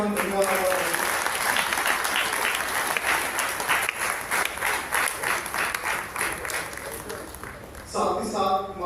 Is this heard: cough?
no